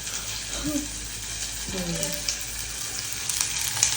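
Onion and tomato sautéing in a pan for a fish kuzhambu, a steady close sizzle running throughout with a couple of brief stirring scrapes and faint voice-like sounds.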